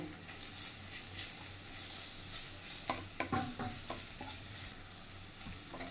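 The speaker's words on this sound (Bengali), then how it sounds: "1 চামচের মতো রসুন কুচি আর 1 চামচের মতো আদা কুচি। এবার এটা দিয়ে একটু ফ্রাই করে নেব।" Chopped garlic and ginger fry in oil for a bitter gourd dish, giving a soft, constant sizzle with a short burst of stirring and light spatter pops near the middle.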